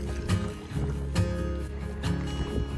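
A sailboat tacking across open water, with loud, regular thumps of hull and water about once a second over a steady rush of wind and spray.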